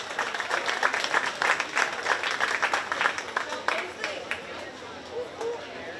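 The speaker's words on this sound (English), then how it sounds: "let's give him a big round of applause" A crowd at a county fair 4-H sheep and goat show gives a round of applause, clapping briskly at first and then thinning out, with background voices and a loudspeaker announcer partly over it.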